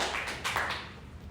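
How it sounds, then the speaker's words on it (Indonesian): Students in a high school classroom give a short burst of applause for a presentation group, a brief, moderately quiet patter of hands fading out. "beri tepuk tangan buat kelompok 1"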